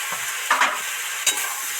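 Marinated small river crabs being stirred in a pan with a little water for a village-style crab curry, a soft steady sizzle with two or three brief scraping stirs, close and alone.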